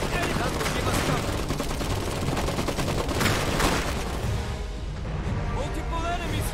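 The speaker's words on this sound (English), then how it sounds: "They're shooting at us!" Dense gunfire from the strategy video game Iron Harvest, rapid overlapping volleys and bursts that crackle continuously and loudly, mixed with shouted voices and battle noise.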